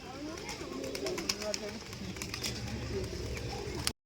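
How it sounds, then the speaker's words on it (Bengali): A flock of pigeons inside a temple coo softly at a distance amid a busy background of ambient noise, with faint voices and occasional clicks mixed in. "দেখো এখানে কতগুলো পায়রা রয়েছে মন্দিরের ভেতরে"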